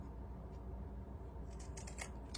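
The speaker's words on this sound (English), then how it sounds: "with the pinking shears to help stop that fraying" Pinking shears snip through fabric in a few quick, close crunching cuts near the end, faint against a quiet room.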